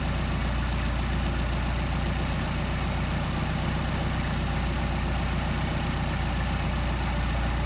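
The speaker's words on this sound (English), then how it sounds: "we'll start adjusting our idle mixture screw to get the best idle speed" A Mercedes 190SL engine with Solex carburetors idles steadily and close, a constant low rumble with an even pulse that holds throughout, with no voices.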